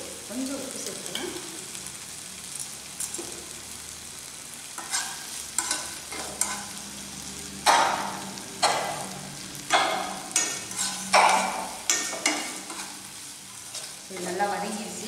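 Ginger and tomato sauté in a pan for rasam, a steady sizzle and frying hiss under repeated scraping and stirring strokes that grow more frequent toward the end, up close with no talking.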